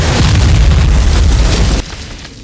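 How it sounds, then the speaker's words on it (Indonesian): Buildings blown apart by German tanks in a war film, a loud close burst of heavy booming and rumbling debris that holds for nearly two seconds and then drops off abruptly into a quieter tail. "tentara Jerman meluncurkan serangan dengan meledakkan bangunan menggunakan tank"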